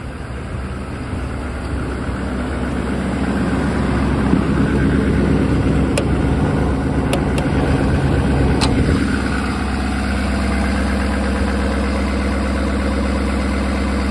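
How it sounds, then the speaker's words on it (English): A 2018 Ford F-350 Power Stroke diesel XLT idling nearby, a steady low rumbling clatter that holds for the whole stretch, with a few faint clicks over it. "you can hear the diesel percolate now"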